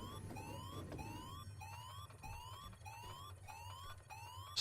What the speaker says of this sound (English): Apologies for setting the alarm off.